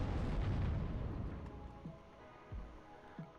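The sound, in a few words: cluster bomb explosions in WARNO video game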